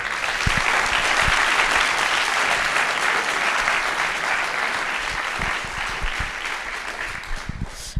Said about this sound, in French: On peut applaudir le 40 pour l'accueil.